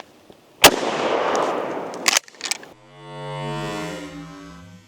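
A shotgun fires buckshot from short shells into a giant gummy bear, one loud close blast followed by a long decaying roar and a few rattling clatters, then a ringing tonal echo.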